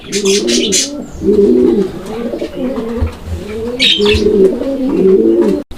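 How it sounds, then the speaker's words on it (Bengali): A pair of pigeons kept for sale coos close by in a steady, repeated rhythm of low throaty calls, with a few faint chirps mixed in and no talking. "দর্শক আমরা এই মুহূর্তে দেখতে পাচ্ছি এখানে আরও এক জোড়া কবুতর আছে"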